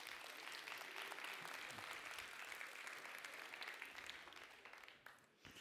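Audience applause at a round-table conference session, steady clapping that tapers off toward the end, recorded quite faint overall.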